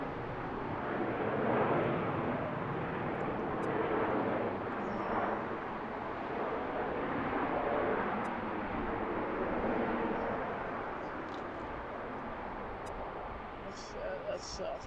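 A Southwest airliner landing on runway 10 at BWI airport, heard as a steady, broad jet roar that swells and eases over about fifteen seconds, fairly distant and continuous.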